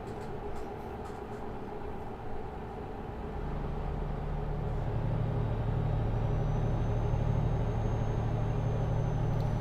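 A Renault Magnum truck cruises in Euro Truck Simulator 2, its engine a steady low drone under road rumble that swells gradually louder and holds a sustained hum.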